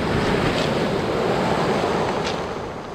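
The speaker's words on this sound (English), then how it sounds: "this is the mouth of the River Spey. Check out the ocean" Ocean surf at the mouth of the River Spey washes in a loud, continuous roar with wind buffeting the microphone, no voices present.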